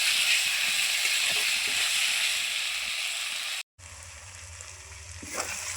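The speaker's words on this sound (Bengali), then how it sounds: "পেঁয়াজটা ভালো করে ভাজা ভাজা করে নেব।" Onions frying in oil for Medinipur-style chicken give a steady sizzling hiss that briefly cuts out, then resumes with a lower rumble and quieter crackle.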